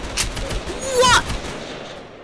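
Gunfire and explosions in a war simulator video game: a few sharp shots and a louder burst with a whistling, rising tone near the middle, over a busy game background.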